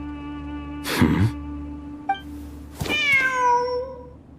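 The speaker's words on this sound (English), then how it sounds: "Wait, there it is! The cat!" A cat in a video game set among desert ruins gives a sharp, breathy meow, then a longer, clear meow a moment later, close and distinct over a quiet tonal game background.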